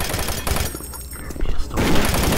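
Pistol gunfire in the video game Doom 3, with dense, noisy bursts at the start and end and a quieter gap in the middle, loud and close.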